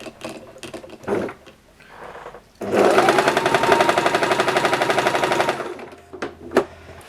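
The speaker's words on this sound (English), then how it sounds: "Put it under the sewing machine." A sewing machine stitches a tiny pillow in one sustained burst of rapid, even stitching, close and loud, with brief handling noises before and after.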